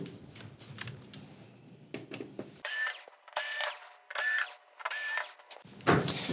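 A power driver removes screws from the main board of a Samsung UN55JU6400F television, giving several short, close whirring bursts in a steady run, separated by brief pauses and light handling clicks.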